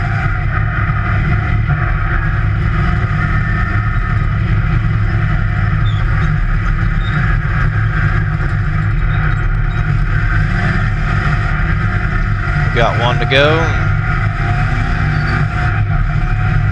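A dirt track race car's engine at a Nevada speedway drones loud and close, running rough with engine problems on a slick, muddy banked track, a steady uneven roar; a voice briefly speaks over it.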